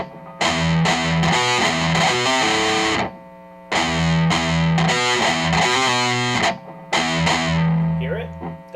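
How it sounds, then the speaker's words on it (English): A heavily distorted electric guitar plays a metal riff with chugging palm-muted notes, sounding loud and alone in three bursts separated by short pauses. "That's the palm mute, that really gives the beef in our riff."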